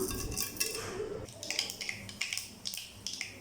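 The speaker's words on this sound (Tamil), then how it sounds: "இப்போ ஆயில் நல்லா சூடானதும் இதில் கொஞ்சமாக கடுகு உளுந்தம் பருப்பு சேர்த்துக்கலாம்" Mustard seeds and urad dal spluttering in hot oil: quiet, scattered pops and crackles, sharp little bursts at irregular intervals over a faint sizzle.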